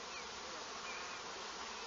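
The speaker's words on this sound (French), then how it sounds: "vous allez voir justement les abeilles qui rentrent du pollen" Honeybees fly back into their hive carrying pollen at a school apiary, making a soft, continuous buzzing hum that stays fairly faint, with no voices.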